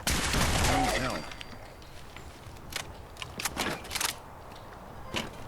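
Gunshots from Nick's hand cannon in Fallout 4, set on the Far Harbor island: a loud burst up front, then several sharp separate reports spread irregularly across the rest, with faint background ambience between them.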